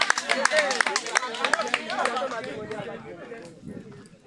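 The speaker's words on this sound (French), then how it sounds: "Est-ce qu'on peut acclamer pour les demoiselles, s'il vous plaît?" A live audience claps for the young women being introduced, with brisk scattered claps and some chatter that fade over a few seconds.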